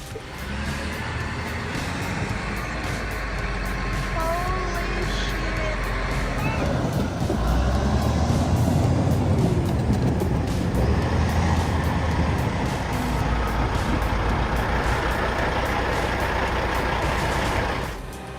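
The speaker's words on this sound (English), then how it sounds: "These mighty logging trucks, laden with timber, embark on a journey" Heavy logging trucks laden with timber rumble along in a wooded setting, a continuous, loud low engine drone with road noise that swells toward the middle and holds steady to the end.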